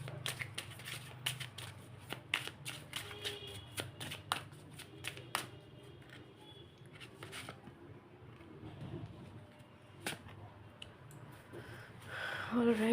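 A deck of cards is shuffled by hand close up, with quick crisp riffling flicks in bursts that fade to softer handling, while a voice speaks lightly over it.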